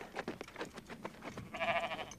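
A goat bleats close by in a quavering, repeated cry that swells louder near the end, with some indistinct background noise.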